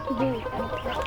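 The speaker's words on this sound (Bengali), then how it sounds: "বিশটার মতো মুরগি আছে" Chickens in a rooftop coop cluck close by in a short, loud burst of a few rising and falling calls, with no talk.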